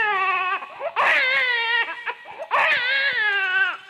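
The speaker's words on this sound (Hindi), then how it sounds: "बच्चे का रोने का आवाज सुनाई पड़ा।" An infant cries loudly in a sung story performance of the Shravan Kumar tale, with sustained wailing bursts that swell, break off briefly, and rise again close to the listener.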